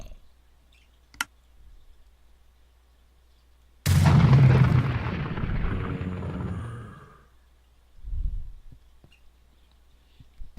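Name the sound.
gun firing in Minecraft (video game) with gun mod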